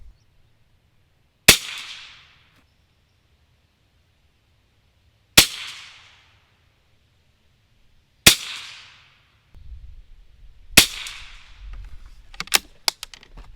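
Four sharp, close shots ring out from a vintage Winchester 67a .22LR single-shot rifle, spaced several seconds apart, each with a short decaying tail, followed by faint clicks and handling noises as it is reloaded.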